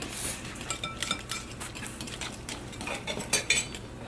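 Eggs whisked in a bowl for blueberry banana pancake batter, a quick run of light metallic clinks and taps against the bowl, close and fairly soft.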